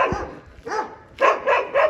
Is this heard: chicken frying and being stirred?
no